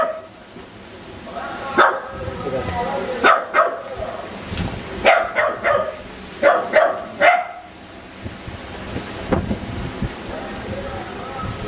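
A dog barks indoors in a series of sharp, loud barks, several in quick clusters with pauses between, over a steady background hiss like rain.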